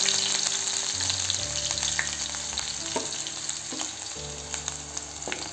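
Chopped onion frying steadily in a pan over low gas, a continuous close sizzle with occasional soft stirring scrapes, no talk.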